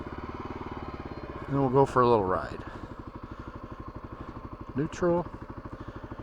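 A Kawasaki KLR 250 motorcycle engine idles close by with a steady, even putter throughout, while someone talks briefly over it.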